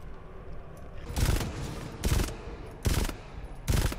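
Enemy gunfire in the game GTFO: four loud, sharp bursts of rapid shots spaced roughly a second apart, each cutting through a low background rumble.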